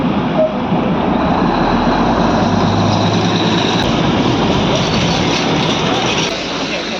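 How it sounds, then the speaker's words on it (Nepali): The Darjeeling toy train approaches: a steady, close, loud rumble with a low engine drone running underneath throughout. "दार्जिलिङको टोय ट्रेन आउँदैछ"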